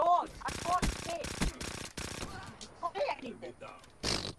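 Rapid bursts of gunfire from Black Ops 3 in a Gun Game match, several loud clustered volleys in the first two seconds, then scattered shots and a final sharp burst near the end, with a player talking over the action.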